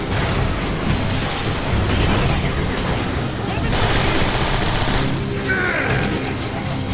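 Rapid bursts of gunfire from a Transformers video game, dense and continuous at close range, with booms and mechanical clatter layered underneath across the whole stretch.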